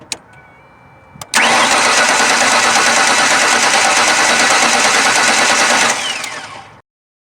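A 2001 Ford Ranger engine cranks steadily during a compression test, a loud, even starter churn running for about four and a half seconds after a click, then cutting off abruptly.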